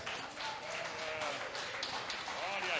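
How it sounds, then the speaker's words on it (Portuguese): A church congregation at a Thursday evening service applauds together, a steady, fairly even wash of clapping that lasts the whole moment, with voices mixed in beneath it. "Vamos aplaudir o servo do Senhor?"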